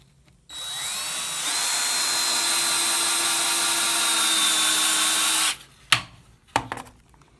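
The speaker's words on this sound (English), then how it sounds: "it just kept right on screwing into the wood. That's too much torque." A cordless drill on a high torque setting drives a screw into wood, a loud, steady high whine lasting about five seconds before stopping, followed by a couple of short knocks.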